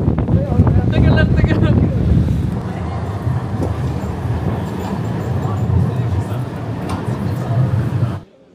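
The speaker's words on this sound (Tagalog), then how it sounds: "ang lakas ng hangin" Strong wind gusts batter the microphone during a walk around Rembrandtplein in Amsterdam, a loud rumbling roar that is heaviest at first, eases slightly, then cuts off abruptly near the end, with traffic-like noise mixed underneath.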